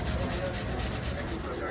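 A green scrubbing pad works across an oiled surface, giving a steady, continuous close-up rubbing and scouring sound with no break.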